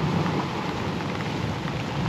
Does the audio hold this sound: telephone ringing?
no